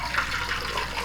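A single egg drops into hot oil for a Thai deep-fried egg, giving a steady, close, loud sizzling hiss that crackles evenly throughout with no voices.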